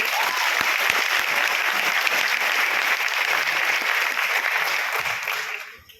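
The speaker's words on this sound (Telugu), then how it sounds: "ఇది ఒకసారి ఎండి గారికి గట్టిగా క్లాప్స్ ఇవ్వండి." An audience claps loudly and steadily in a hall at a motivational event, a dense continuous applause that holds for several seconds and then fades out at the end.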